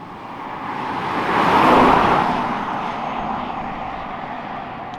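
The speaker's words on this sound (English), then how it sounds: "the loudest thing is the wind noise and the noise from the tyres" Wind and tyre roar inside Britain's cheapest new electric car while driving: a steady broadband rush that swells briefly, then settles back to a constant hum, with no voices.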